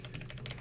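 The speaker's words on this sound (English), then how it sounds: "Wait, what am I typing?" Quick run of soft clicking keystrokes on a computer keyboard, close and steady, with no talk.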